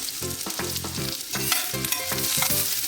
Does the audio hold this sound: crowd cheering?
no